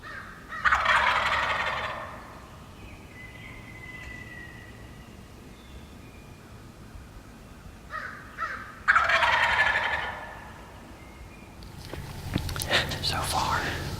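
Several wild turkey gobblers gobbling outdoors at daybreak: two loud, rattling gobbles a few seconds apart with a shorter one between, then scuffling noise, with quiet whispering in between.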